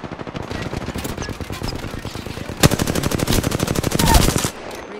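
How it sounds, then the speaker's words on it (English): Rapid automatic gunfire from a shooter video game, a steady burst of closely spaced shots that grows louder and denser midway, then cuts off abruptly near the end. "Opening fire"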